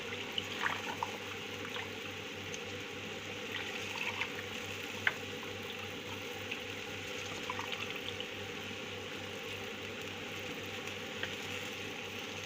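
Water is poured steadily into two-liter jars packed with peppers and eggplant for home canning, a faint, continuous liquid wash over a low hum with no talking.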